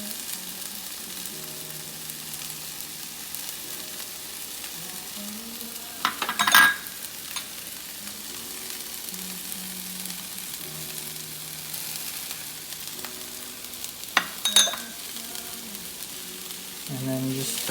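Spices and garlic sizzle steadily in hot oil in a pan for lentil tacos, a continuous crackling hiss with two short louder bursts of stirring scrapes.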